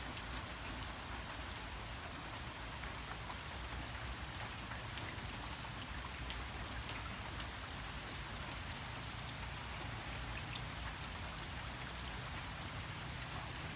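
Steady rain falls outside, a continuous even hiss of drops on surfaces with no letup and no voices over it.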